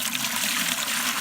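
Coolant flushed from a 1993 Mitsubishi 3000GT SL cooling system pours steadily into a white bucket, a continuous close splashing wash of water with no talk.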